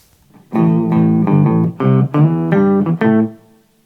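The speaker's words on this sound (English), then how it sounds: "This is with the distortion off." An electric guitar played through effects pedals with the distortion pedal switched off, a clean, bass-heavy octave-down tone in a short run of distinct picked notes and brief chords, close and alone.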